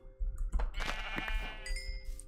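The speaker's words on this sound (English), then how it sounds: "And we got ourselves sheep." Sheep bleat in a survival video game, a couple of close wavering bleats over a low steady rumble, with a faint tonal chime near the end.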